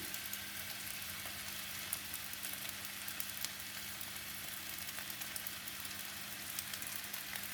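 Fried rice with Chinese sausage (lap cheong), light soy sauce, oyster sauce, fried garlic and chili sizzles in a wok under stirring, a steady close hiss with faint occasional scrapes and no speech.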